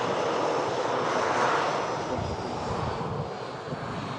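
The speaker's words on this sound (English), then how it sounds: "Also on the taxi out we have the Scandinavian Air Service." A Scandinavian airliner taxiing out at Manchester Airport during a storm, its engines giving a steady, loud broadband roar that holds throughout with a slight swell midway.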